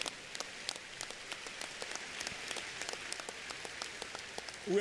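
A church congregation applauds, a dense, even patter of many hands clapping that carries on steadily at moderate distance.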